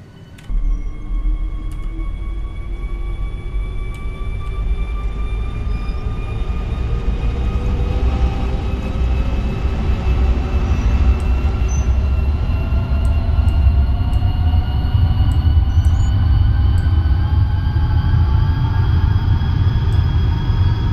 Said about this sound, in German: der Zug da hinten fährt auch los